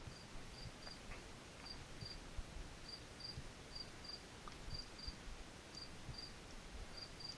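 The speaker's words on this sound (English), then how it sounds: "Is somebody playing outside with the crickets? I hear it too." Crickets chirp outside, faint and distant, with short, high, evenly repeating chirps over a steady hiss of background noise.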